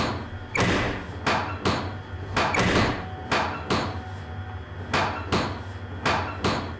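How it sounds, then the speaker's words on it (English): Rhythmic sharp strokes repeat about ten times at a steady pace in a Nancy Drew mystery game, each a loud percussive burst close by, heard alone without talk. "sound of sawing. Who's sawing?"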